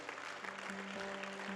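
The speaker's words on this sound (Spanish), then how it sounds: "Otro un fuerte aplauso, Señor." Sustained applause fills a church service, a dense even wash of clapping from a congregation with a steady tone droning underneath, loud and continuous throughout.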